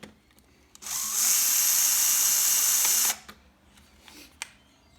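Power driver spinning out screws from the panel of a Yaesu FTDX-10 radio, one loud steady whirring burst of about two seconds, followed by small clicks and handling noises.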